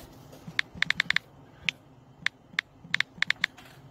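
Password being typed on a computer keyboard at a login form, sparse clicking keystrokes in quick bursts and single taps, close and clear with no talk.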